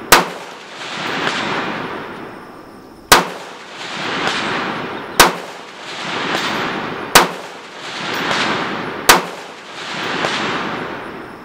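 Five rifle shots fired at a 300-yard target, each a sharp loud crack about two seconds apart, followed by a rolling echo and a faint distant return before the next shot, no voices.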